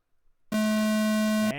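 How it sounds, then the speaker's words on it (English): An electronic race start tone sounds, a loud steady beep with a pure pitch lasting about one second, cutting off abruptly, preceded by faint low background noise. "That's the sound of the tone"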